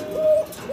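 A single short, soft coo comes from a male pigeon, one brief tonal call sounding close and alone without any speech.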